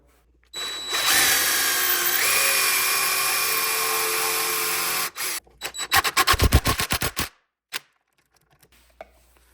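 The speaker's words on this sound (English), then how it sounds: "all I'm gonna do is drill on both sides, sink in my screws" A power drill fitted with a countersink bit bores screw holes into a river rock desk, a loud high whine held for several seconds, then a run of short stuttering bursts and a final brief pulse.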